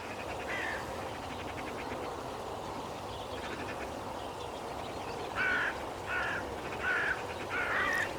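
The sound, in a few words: hooded crows cawing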